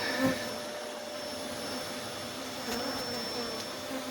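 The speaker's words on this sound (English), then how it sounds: "A big cluster of bees is where all the babies are, the rest is honey." A steady, dense hum of many honey bees buzzing close by at a defensive hive being relocated, holding an even level throughout with no voices.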